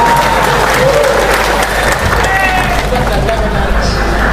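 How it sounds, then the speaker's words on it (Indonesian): Steady, loud applause from a crowd, continuous clapping filling the whole stretch with a murmur of voices underneath. "Tepuk tangan."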